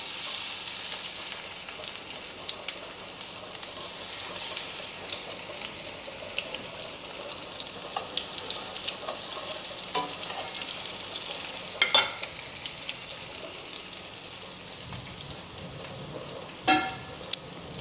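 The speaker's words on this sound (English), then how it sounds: "the pork chops in, and you're going to just brown them, and that takes about 2 minutes on each side" Pork chops browning in a frying pan, a low steady sizzle that carries on for a long stretch, with occasional clinks and a few short louder bursts, and a faint car horn outside; no talking.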